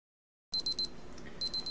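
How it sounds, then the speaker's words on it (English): A kitchen timer on a steam sterilizer goes off with three quick electronic beeps, a short pause, then three more beeps, close and clear over a low background hum. "That's my timer saying this has been sterilizing for about a half hour."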